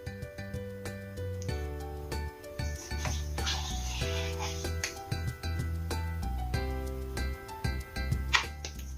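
A spoon scrapes and swishes around a bowl, mixing egg yolks, sugar and sour cream for an apple charlotte batter in steady strokes, heard close up beneath continuous tuneful background music.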